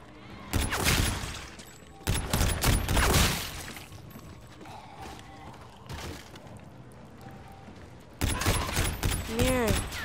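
Gunfire from the video game Call of Duty while shooting zombies, coming in loud bursts of rapid shots with quieter gaps in between, and some game sounds mixed in.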